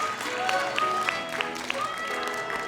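An audience applauds after a kindergarten performance of The Jungle Book, with a steady patter of clapping and a few sharper individual claps, while voices murmur underneath.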